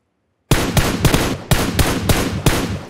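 Rapid gunfire from shooting an enemy in PUBG Mobile: after half a second of silence, seven or eight loud, close shots crack out in a quick, fairly even burst with no talk over them.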